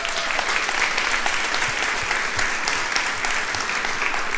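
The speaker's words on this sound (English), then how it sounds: "So give everyone a round of applause." A large breakfast audience claps continuously, an even wash of applause that holds steady and loud from start to finish.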